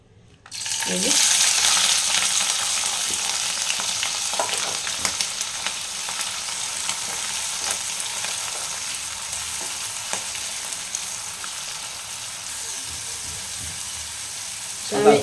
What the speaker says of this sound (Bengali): এরপর মাছটা আমি ছেড়ে দেবো ভাজবো এই তেলের মধ্যে